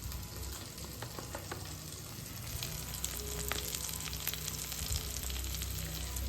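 Onions and tomatoes fry with turmeric in a pan, giving a continuous close sizzle with faint stirring crackles throughout and no talking.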